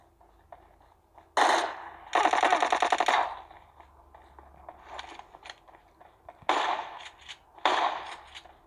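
Gunfire in PUBG Mobile comes in several sharp bursts of rapid automatic shots, one longer volley and a few shorter ones, separated by quieter gaps.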